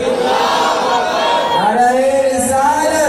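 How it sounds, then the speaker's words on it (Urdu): A crowd at an Eid Milad un Nabi mahfil shouts back in unison after a Takbir slogan call, a loud chant of many voices rising and falling for a few seconds. "نعرہ تکبیر"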